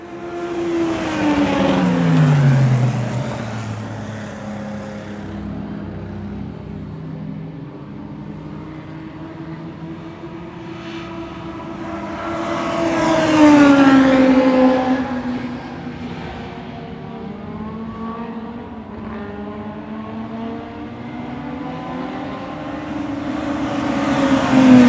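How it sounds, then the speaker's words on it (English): Racing, sports racing and club cars lapping a circuit together at a historic summer festival, engines rising and falling as cars pass by, with louder surges near the start, middle and end over a constant track drone. "all the racing, sports racing and club cars were out on track together"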